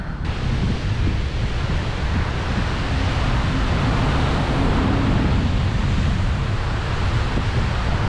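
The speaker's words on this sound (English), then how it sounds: "These are the Quobba blowholes we got here at a good time, because it seems like they're really" Ocean surf at the Quobba blowholes on a rugged coast, a constant loud roar of waves and spray with heavy wind buffeting the microphone throughout.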